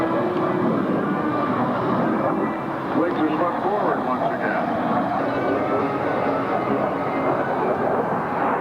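Swing-wing military jet roaring through a flying display at the 1995 London International Airshow, a steady loud broad engine rumble throughout with a public-address commentator talking over it.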